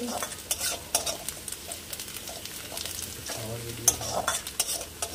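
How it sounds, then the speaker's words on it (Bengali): Onions frying for Punjabi kadhi sizzle softly in a pan on a gas stove while a utensil scrapes and stirs in irregular bursts, with quiet household voices in the background. "পেঁয়াজটা ভাজা হয়ে গেছে।"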